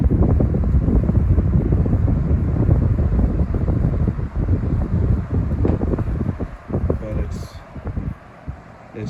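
A Lasko 18-inch high velocity fan, model 2518QM, runs with a loud, close, breathy roar of moving air that wavers in strength and grows patchier and quieter in its last few seconds.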